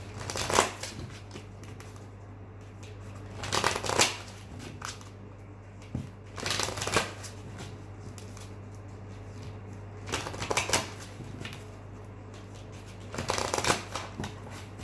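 Tarot cards shuffled for a reading, several bursts of riffling and fluttering card noise separated by quieter pauses over a low steady hum, close and with no talking.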